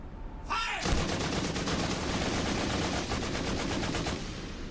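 Gunfire volley in an animated parody, a sudden swell into a dense rapid rattle of shots that keeps going for several seconds, loud and continuous, following a brief shouted command.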